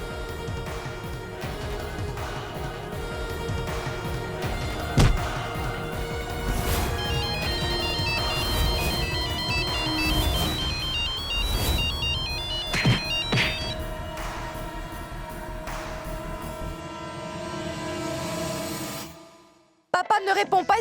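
A phone rings repeatedly and goes unanswered during a call in a TV drama, a steady ringtone pattern under background music and dialogue that cuts off near the end.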